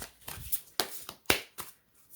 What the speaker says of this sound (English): I've already done the shuffling. I'm just doing it, one more time.